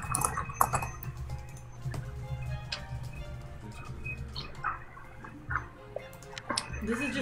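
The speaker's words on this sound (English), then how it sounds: "This is just us being silent and typing." Typing on computer keyboards while playing the online game Town of Salem, scattered key clicks in irregular bursts over a low steady hum, with faint background sounds.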